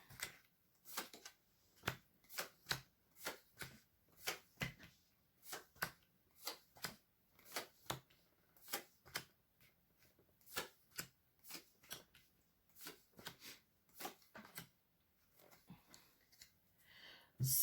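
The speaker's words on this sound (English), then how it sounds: "So I'm going to lay all the cards out and then we'll talk through it." Tarot cards are laid out one at a time on a table: a long series of crisp, close snaps and slaps at an uneven but steady pace, with quiet gaps between them.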